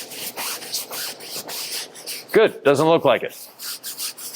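Bristle brush scrubbing a wet convertible fabric soft top during washing and rinsing, a raspy rubbing that runs steadily under a brief spoken remark.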